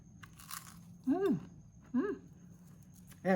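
Crisp crunches from bites into a flaky mini curry puff pastry filled with durian: three distinct crunchy bites spaced about a second apart, close and fairly loud, with a faint voice in between.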